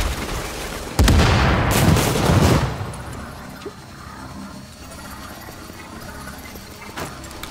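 Frag grenades go off in The Division, a sudden heavy blast followed by a rumbling roar for about a second and a half, then quieter background gunfire and game ambience.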